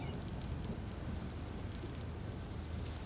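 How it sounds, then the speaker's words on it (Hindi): Steady rain falls on a lawn, a soft, even hiss with a low rumble beneath it and no voices. "लान में बारिश होती कितनी अच्छी लग रही होगी ना"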